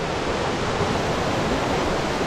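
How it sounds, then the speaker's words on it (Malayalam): Thooval waterfall in Idukki roars as a steady, loud broadband rush of falling water, continuous and close with no breaks and no voices. "ഇതാണ് നമ്മുടെ തൂവൽ വെള്ളച്ചാട്ടം"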